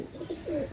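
Soft, close cooing from Pakistani fancy pigeons, a pair of short low throaty coos of under a second, heard alone.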